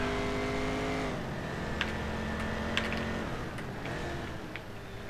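A race car engine in Race Driver Grid on the final lap, a continuous high whining drone with the pitch falling at shifts and corners, plus occasional sharp ticks and knocks over a constant roar.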